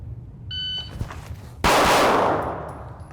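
A pistol fitted with a Vortex Defender-CCW red dot fires during a live-fire drill. A faint electronic beep comes first, then a small sharp crack, and finally a loud, close gunshot that rings out and slowly decays.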